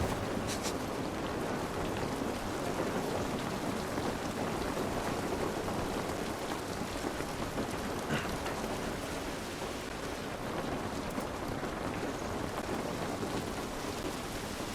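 Steady, dense rain pours down throughout in The Last of Us, a continuous broadband hiss of drops hitting surfaces with a faint distant rumble underneath and no talking.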